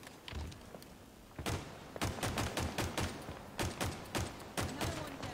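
Rapid bursts of automatic gunfire in Halo Infinite, sharp repeated shots in quick rhythmic strings, loud and close, with a brief pause before the firing picks up.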